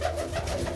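Pigeons coo softly and steadily inside a loft housing large birds and their young chicks, several overlapping low calls running continuously without pause.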